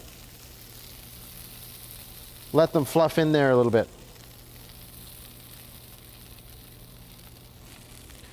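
Potatoes fry in browned butter in a pan, giving a steady soft sizzle throughout, with a person briefly talking over it partway through.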